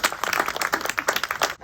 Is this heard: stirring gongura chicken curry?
no